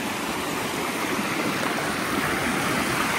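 Loud, continuous rushing of a stream near a waterfall by a Draupadi Amman temple, water tumbling and churning close by with no pauses and no voices.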